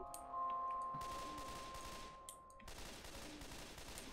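Rapid gunfire in Left 4 Dead 2 against a large metal-bodied creature, a faint continuous rattle of shots under a humming tone, heard in the background without voices.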